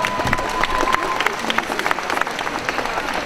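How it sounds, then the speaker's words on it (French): An audience at a costume contest applauds a participant dressed as a video game character, with dense, continuous clapping and crowd noise close by, and a voice briefly audible over it. "On l'applaudit chaleureusement."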